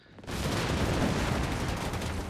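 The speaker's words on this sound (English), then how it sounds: "Chaffee firing away." An M24 Chaffee light tank fires in the Company of Heroes 3 battlefield, a loud, dense burst of gunfire and blasts that starts abruptly and keeps rolling on without a break.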